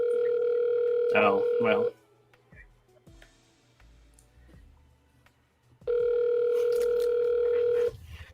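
Ringback tone of an outgoing phone call to a scam number, two long steady ring bursts separated by a pause of quiet, with a few words spoken over the first burst.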